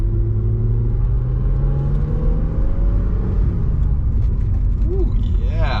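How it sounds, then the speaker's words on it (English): A BMW E36 M3 coupe with a five-speed manual drives along, its engine rumbling steadily and its pitch rising and dropping through gear changes, while a person talks over it inside the car. "Ooh, yeah, smooth shifting."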